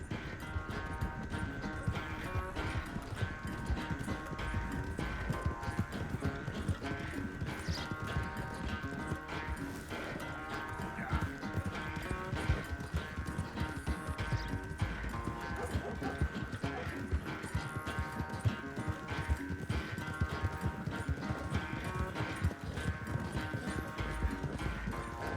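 Rapid hoofbeats of galloping horses in a race in Red Dead Redemption 2 pound steadily throughout, layered with busy game music and effects.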